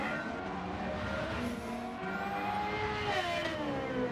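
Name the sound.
Suzuki VGT race car engine in Gran Turismo 7 video game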